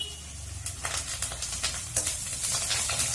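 Curry leaves crackle and sizzle in hot oil for a catfish curry, a constant bright fizz close up with bursts of popping and the occasional stir.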